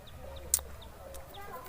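Chicken clucking in a farmyard: a few short, soft clucks spaced through the moment, with a louder sharp sound near the middle over a low background hum and no talk.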